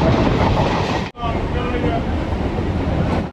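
Train at Lakshmikantapur station, a loud steady rumble of carriages filling the scene, broken by a brief dip before the noise resumes unchanged.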